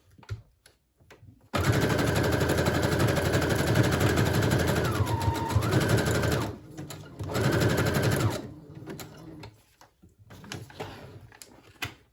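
A sewing machine stitches sari ribbon onto a journal cover in a long steady whirring run, slowing briefly, then a shorter second burst, close and alone.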